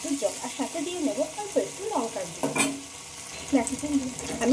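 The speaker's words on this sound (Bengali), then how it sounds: "পেঁয়াজ টমেটোর সাথে মশলাটা ভালোভাবে কষিয়ে নিতে হবে" Spice paste is stir-fried with onion and tomato in a pan for an ash gourd (chal kumro) dish. It gives a close, steady sizzle broken by stirring scrapes, with a voice faintly audible over the frying.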